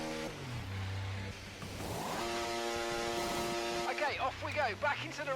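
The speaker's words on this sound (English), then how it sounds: "Alright, into the pits I come this lap then." An F1 race car in a video game at Imola drops into the pit lane, engine note falling from a high whine to a steady limiter hum, then revving back up on exit, loud and close.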